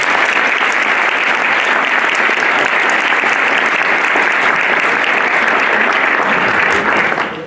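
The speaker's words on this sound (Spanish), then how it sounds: "Le damos un aplauso, por favor." A large audience at a public health lecture claps continuously, a dense, even wash of applause that holds steady before tapering at the very end.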